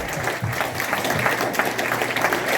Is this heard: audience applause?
yes